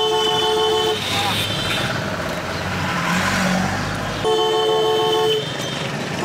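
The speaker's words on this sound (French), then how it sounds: "Plus tu klaxonnes fort, tu as des chances de passer." Several car horns honk repeatedly amid busy traffic noise, one long blast near the start and another later, with talk underneath.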